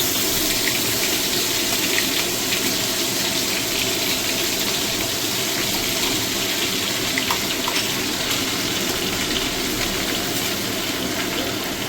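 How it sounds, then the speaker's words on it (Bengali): Water poured steadily into a pot of homemade chicken curry, a continuous rushing splash that holds close and loud for about twelve seconds without a break. "জলটাও দিয়ে দিলাম"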